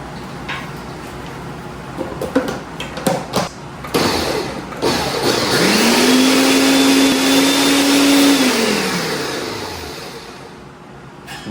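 Clattering and clunks give way to a loud blender motor spinning up, roaring steadily for a few seconds, then winding down to quiet.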